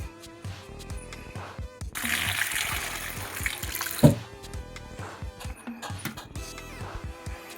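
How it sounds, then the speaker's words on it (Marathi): Rice and country eggs being washed in clean water in a kitchen vessel, with soft sloshing and swirling, a louder gush of running water in the middle and a brief clatter partway through. "आपण तांदूळ स्वच्छ पाण्याने धुवून दहा मिनटं भिजत ठेवणार आहोत व अंडीही स्वच्छ पाण्याने धुवून घेणार आहोत"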